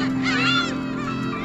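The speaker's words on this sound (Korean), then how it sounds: "갈매기가 엄청 많아요." Seagulls call at Sorae port in a dense, overlapping chorus of squawks, loud and near, with crowd noise and people's voices in the background.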